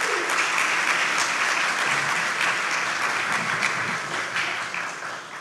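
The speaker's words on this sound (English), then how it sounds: "let's give them a round of applause for helping Heather" A dinner crowd at a ten-year celebration gives a sustained round of applause, dense and fairly loud, thinning slightly toward the end.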